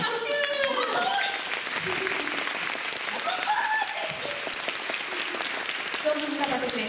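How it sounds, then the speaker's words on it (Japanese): Audience clapping at an anniversary event at the Funassyi Land Funabashi store, steady applause running throughout with voices and laughter mixed in. "嬉しいですよね、拍手。"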